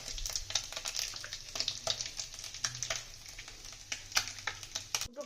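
Bay leaf and whole cumin seeds sizzle in hot oil for a fish-head cabbage dish, a steady crackling fry with small pops and a soft stirring scrape throughout.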